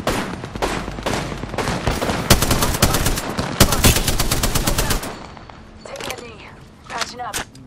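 Rapid automatic gunfire from a weapon in the shooter game Apex Legends crackles in loud, dense bursts, then stops and gives way to a voice talking.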